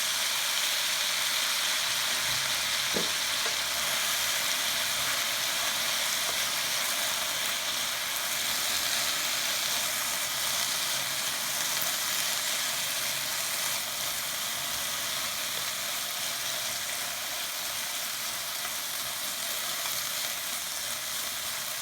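Sliced lotus root sizzles steadily in a hot pan after mirin is added, a continuous close frying hiss with a faint clink early on and no talking.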